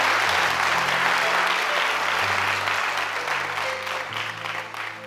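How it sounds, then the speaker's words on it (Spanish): A church congregation applauds loudly and steadily for several seconds during a Spanish-language worship service, the clapping dense and continuous, fading slightly toward the end, with faint voices beneath. "Dale un fuerte aplauso al Señor."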